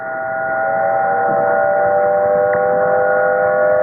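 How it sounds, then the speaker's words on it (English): Tsunami warning sirens on Waikiki Beach give a loud, sustained wail that holds steady throughout, with faint background rumble beneath. "On Waikiki Beach, the sirens warn people to get away from the shoreline."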